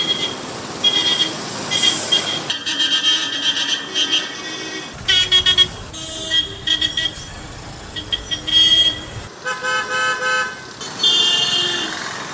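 Loud vehicle horns honk repeatedly in busy road traffic, a harsh, deafening mix of car and motorcycle horns blaring in overlapping bursts over engine noise.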